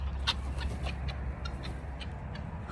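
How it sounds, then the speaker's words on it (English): Several chickens cluck in short, scattered bursts outdoors on a farm, fairly close, over a steady low rumble of background noise. "Get out of here, birds."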